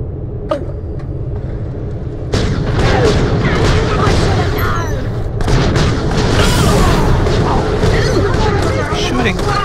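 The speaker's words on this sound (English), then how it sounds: "Shooting" Gunfire in Borderlands Pre-Sequel, loud booming shots and explosions layered over a constant rumbling game soundscape, coming in dense repeated bursts after a quieter opening.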